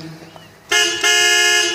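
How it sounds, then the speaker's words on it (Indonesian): A car horn blasts twice, loud and close: a sustained toot, a split-second gap, then a second longer honk, after a quiet moment at the start. "Suara klakson mobil Titan."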